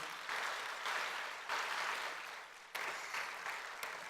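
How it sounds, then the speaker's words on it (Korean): Around a thousand forum attendees applaud in a large hall, a broad, fairly distant wash of clapping that swells in waves and holds steady throughout. "우리 자랑스러운 서로를 위해서 한번 박수로 격려하시죠"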